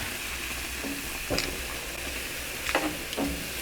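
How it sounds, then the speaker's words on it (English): Shepherd's pie sauce, thickened with flour, simmers quietly in a pot, a faint steady hiss broken by a few soft bubbling pops. "And then we're just gonna let that simmer."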